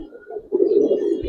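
Giribaz and coloring pigeons cooing, a short soft coo followed by a longer, louder throaty coo, close by and alone.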